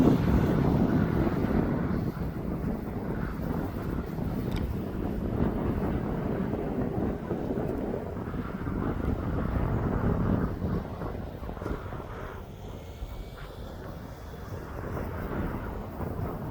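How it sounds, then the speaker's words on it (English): A Boeing 787-9 Dreamliner on an Abu Dhabi to Manchester flight passes overhead, a broad distant roar that swells and slowly fades, mixed with wind buffeting the microphone. "That's the Abu Dhabi flight into Manchester. That's the Dreamliner 9."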